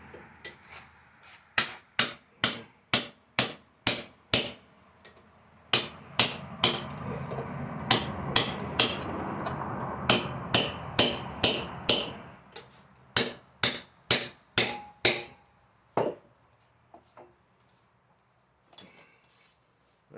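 A metal part clamped tightly in a vise takes repeated hammer blows, sharp ringing strikes landing in quick bursts with short pauses between, over a background hum in the middle, then trailing off into quiet with a few faint knocks.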